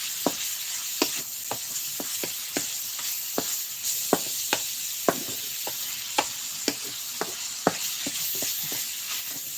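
Minced pork and sliced gourd stir-fried in a pan for a Thai mixed-vegetable dish, a steady sizzle broken by sharp, regular clacks of a spatula scraping the pan, close and moderately loud.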